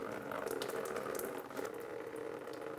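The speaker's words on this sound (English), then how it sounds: "We're going to open this petcock and drain some of the radiator fluid." Radiator coolant draining from an open petcock on a 2010-2015 Lexus RX350, a faint, steady trickling stream with a brief dip midway, nobody speaking.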